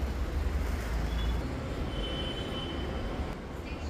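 Trains at a Pune metro station make a steady low rumble with faint high squeals from rail wheels, a continuous, fairly even wash of sound with no voices.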